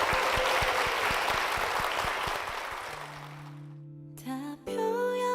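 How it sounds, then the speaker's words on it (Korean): Church congregation applauding warmly for a deaconess, a dense, steady wash of clapping with some sharper individual claps, fading out before a few sustained tones of music come in. "우리 권사님께 힘찬 박수 부탁드립니다"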